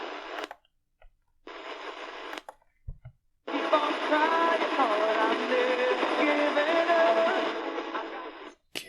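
Faint music plays through a crackly, band-limited AM broadcast from 1490 WGEZ, Beloit, Wisconsin, on a Radio Shack 12-898 portable, cutting in and out at first and then holding steady with some interference.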